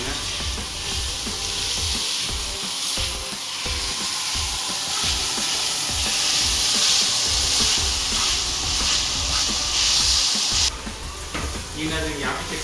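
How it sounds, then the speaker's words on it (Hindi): Chicken pieces frying in a pan, a loud continuous sizzle and hiss with repeated scraping and stirring strokes throughout, close up, with a brief shift near the end as the stirring changes. "चिकन को आपने बहुत अच्छी तरह भूनना है"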